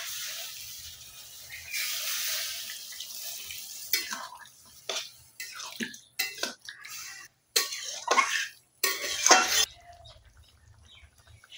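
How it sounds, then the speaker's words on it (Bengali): Hot water poured into a pan of simmering vegetable curry with ash gourd, a hissing splash and gurgle followed by irregular stirring and pan scrapes, close and moderately loud, no talk. "আমি গরম জল করে রেখে দিয়েছি, অল্প করে গরম জল দেব।"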